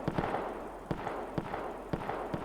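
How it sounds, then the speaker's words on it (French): Faint, distant sniper rifle shots in the Roblox war game Guerre de l'Est, several sharp cracks spaced irregularly, roughly every half second to second, over a low ambient background. "J'ai cru entendre des snipers."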